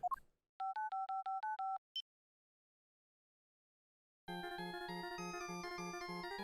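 A cell phone number is dialed in the Apollo Justice: Ace Attorney video game: about eight quick, evenly spaced keypad beeps and a short chirp, then a silent gap before a sustained buzzing ring tone.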